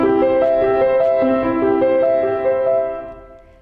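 A Chopin opening played forte on piano, loud and sustained chords with a moving melody line over about three and a half seconds, fading at the end.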